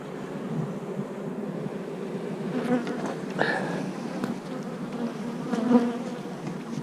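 Honey bees hum steadily around a lifted hive box, a dense close drone with slight swells in loudness as the colony stirs.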